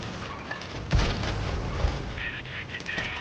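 Double-barrel tank cannon fire in World of Tanks: two heavy low booms about a second apart rise over continuous battle ambience and engine rumble, with no talk.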